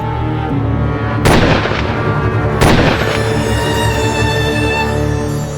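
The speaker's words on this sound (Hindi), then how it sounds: "गोली चलाओ।" Two loud, sharp gunshots ring out a second or so apart in a staged jungle scene from a TV crime drama, cutting through a steady dramatic music bed.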